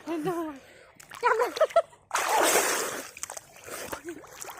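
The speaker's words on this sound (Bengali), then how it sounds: "একবার ডুব মারি" Someone ducks under the surface of pool water, making a loud, sudden splash that rushes for about a second, with voices talking before and after it.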